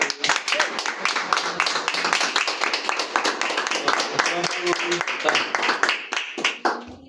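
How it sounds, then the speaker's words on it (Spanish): Applause at a church gathering after a prayer, a dense run of sharp hand claps from a nearby group, loud and continuous for several seconds before thinning out. "Vamos a darle un fuerte aplauso"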